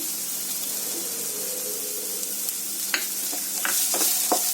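Chopped carrot, beans and capsicum stir-fry in a pan for restaurant-style chicken fried rice, a soft steady sizzle broken late by several sharp scrapes and clacks of a spatula tossing the vegetables.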